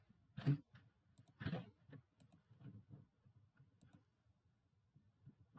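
Mouse clicks on a computer running Windows 11 while opening the Settings app: two sharper, louder clicks near the start, then a series of softer, closely spaced clicks and taps, all close and quiet, with no talking.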